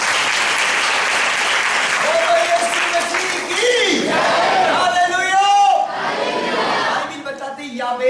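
Church congregation applauding and cheering during a Hindi sermon, loud clapping mixed with shouts and whoops, then a voice rising over the fading noise near the end.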